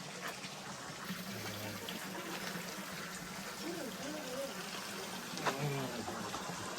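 Water pours steadily from a stone spout at a Shiva temple by Bagh Dwar in Shivapuri, Nepal, a soft continuous splashing stream with voices talking quietly over it.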